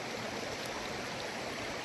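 River water flowing in a steady, broad rushing wash, constant and fairly distant, with no voices.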